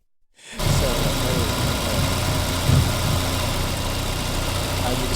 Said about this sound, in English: the sound technically is the other car running